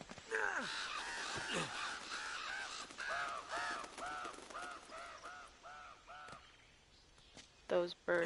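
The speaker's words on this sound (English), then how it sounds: "Those birds should have gave me away." Crows caw repeatedly in a video game while sneaking toward a building, a steady run of harsh calls over several seconds, with a brief voice and other sounds near the end.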